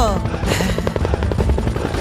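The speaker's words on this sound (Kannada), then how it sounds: "ಹೆಲಿಕಾಪ್ಟರ್ ಬಂದ್ಬಿಡ್ತು" A helicopter arrives overhead, its rotor throbbing in a fast steady chop, loud and close, with some voices mixed in.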